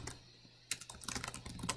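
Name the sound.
typing on a computer keyboard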